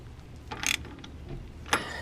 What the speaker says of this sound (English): I like to take a wrench and tighten this down really freaking tight